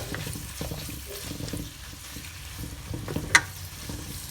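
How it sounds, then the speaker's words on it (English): Noodles and vegetables fry in a pan over a small flame, with a soft, steady low sizzle and light stirring scrapes, plus one sharp clink near the end. "Okay, you fry them a little bit"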